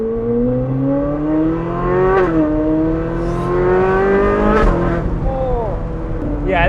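Ferrari 458 Spider fitted with an iPE exhaust, its V8 revving loudly up and down through rising and falling pitch with quick gear shifts, heard from inside the car while people talk over it.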